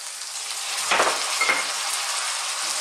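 Tomatoes sizzle in a frying pan alongside chicken and bottle gourd for a Filipino ginisang upo dish, a steady loud hiss with a couple of brief stirring scrapes.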